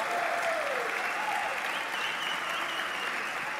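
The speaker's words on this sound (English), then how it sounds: "Clap from the audience as MGB walks past them." An audience at a Dota 2 tournament, the AMD Dota 2 Pro League losers' finals, claps in a dense, steady wash of applause, with a faint voice underneath.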